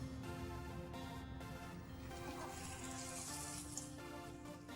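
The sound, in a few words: onions, green chilies and tomatoes frying in a pan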